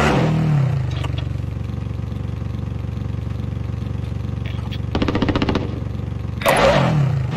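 Vehicle engine in the Warzone video game, idling loudly and steadily with brief rev-ups near the start and end and a rattling burst in the middle, close and continuous.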